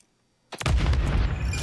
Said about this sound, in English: You can send a nade over that same trash can as well.